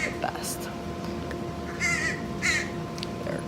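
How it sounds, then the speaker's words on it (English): Several harsh crow caws at moderate distance, spaced irregularly, heard over low room noise and a faint voice. "There are crows in the background."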